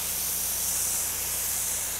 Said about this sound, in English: Turn the sprinkler until it's as fine as you can get it.